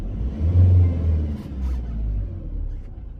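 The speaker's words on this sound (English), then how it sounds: "Let's activate the EGR again by pushing the throttle for a while." A Fiat Ducato third-generation M144 diesel engine with an EGR fault rumbles as the throttle is pushed, a low steady drone swelling briefly early then holding a rough, even idle-like note, close and alone.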